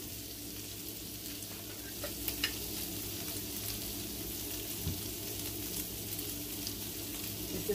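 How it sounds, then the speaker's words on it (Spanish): Chorizo or longaniza frying with onion in a pan while being stirred, a steady close sizzle with occasional scraping and clinks from the spoon, no talking. "ya voy a mezclar el chorizo o la longaniza junto con la cebolla"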